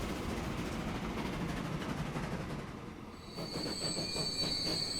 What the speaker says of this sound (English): And our train is coming back into the station down here.